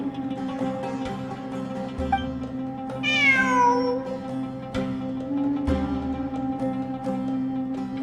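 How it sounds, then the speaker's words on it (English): In the Genshin Impact game, a cat gives one clear, drawn-out meow that rises and falls over game background music, with no one talking. "It really is a cat."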